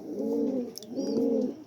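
Two rounded, throaty pigeon coos follow one another closely and sound near and clear against a quiet background, with a faint higher chirp between them.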